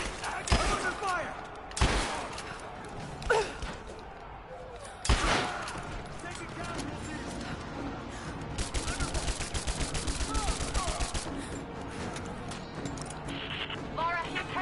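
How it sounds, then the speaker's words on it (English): Suppressing machine-gun fire in Rise of the Tomb Raider: a few heavy single blasts early on, then a long rapid rattling burst near the end, with people talking throughout. "Give me suppressing fire now."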